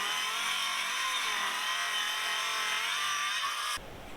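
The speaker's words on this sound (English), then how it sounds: "you can use a circular saw like I used to break down the plywood" A circular saw rips through a sheet of plywood with a loud, continuous high-pitched whine that stops abruptly near the end. No one speaks.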